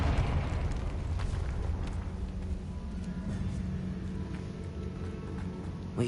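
The Confringo explosive spell goes off in Hogwarts Legacy as a loud, sustained rumbling blast with crackling debris, dense and steady throughout, with no voices.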